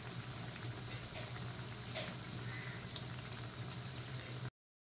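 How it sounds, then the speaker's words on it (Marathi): Bread pakoras fry in hot oil in a wok, with a constant soft bubbling hiss and a few faint pops, heard close and steady until the sound cuts off abruptly. "हे भाजतायत आपले ब्रेड पकोडे, पाव पकोडे।"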